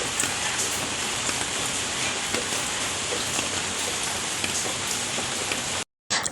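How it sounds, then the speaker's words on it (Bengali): Heavy morning rain, heard from a kitchen, pours down in a dense, constant hiss with scattered drops pattering on surfaces close by, uninterrupted apart from a brief cut near the end. "এদিকে দেখো অঝোরে বৃষ্টি কীরকম ঝরছে সকালবেলায়"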